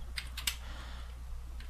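A few quick keystrokes on a computer keyboard, light clicks bunched near the start and one more near the end, faint over a steady low hum.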